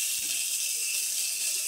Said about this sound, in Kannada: ಇದು ಹುರಿತಾ ಇದೆ ಈಗ